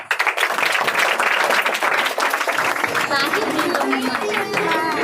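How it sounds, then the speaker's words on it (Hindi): Students and teachers at a Teacher's Day celebration in a coaching centre clap together in a dense, sustained burst of applause, with people talking and calling out over the clapping. "लीजिए ताली बजाइए।"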